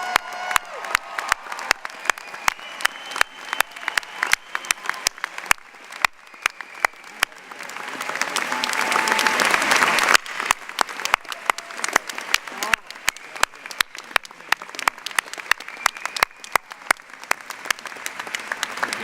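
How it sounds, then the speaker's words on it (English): A large crowd applauds the graduating class at a 2014 law school commencement, with sustained dense clapping that swells with some cheering midway and continues steadily throughout, sharp individual claps standing out near the front. "Let's do one more round of applause for the class."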